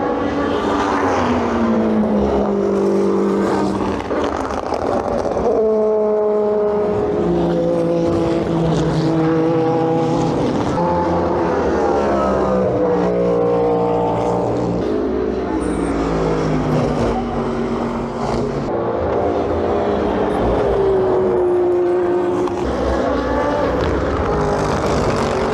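Race cars at the 24 Hours of Le Mans, near Tertre Rouge, pass in a string of loud engine sweeps, pitch rising and falling as each car goes by, with crowd noise behind and a voice talking at times.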